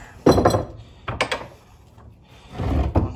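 Hammer knocking a suspension bushing into a control arm on a Pontiac, several sharp metallic knocks spaced irregularly at close range, with no talk.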